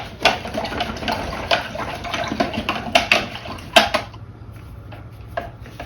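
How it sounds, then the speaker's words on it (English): An acrylic paintbrush is swished and tapped in a water container, giving irregular close splashes and clinks against the sides that fade into quieter dabbing toward the end. "I'm going to rinse my brush out."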